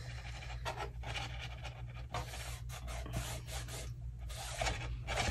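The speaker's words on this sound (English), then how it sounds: "give it a nice firm burnishing, squeezing out any glue as I go" Firm rubbing and burnishing of glued paper lantern parts, a steady close rasping scrape with repeated strokes and brief pauses, no talking.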